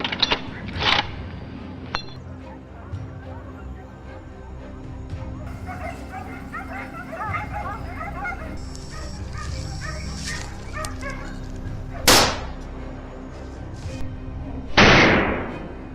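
Hunting dogs on a wild boar hunt give scattered yips, whimpers and sharp barks in a wooded setting, with a dense stretch of yelping in the middle and a few loud bursts near the end.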